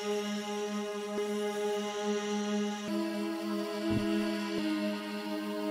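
A plain, unprocessed synth or keyboard chord progression in a UK drill beat, sustained tones shifting chords every second or so, steady and close with no talking.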